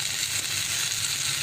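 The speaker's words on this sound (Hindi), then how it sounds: "ये हम चीज़ बॉल्स को फ्राई कर रहे हैं" Chicken cheese balls fry in hot oil, giving a steady, dense, close sizzling hiss that continues evenly without pauses or talk.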